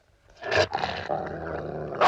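A dog growls and snarls loudly, a low rough rumble that swells in bursts and holds steady, alone with no talk, as in a period drama set in Victorian England.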